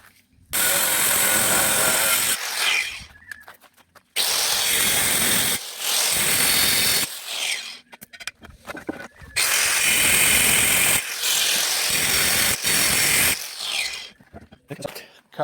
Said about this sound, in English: So I've got my grinder set up,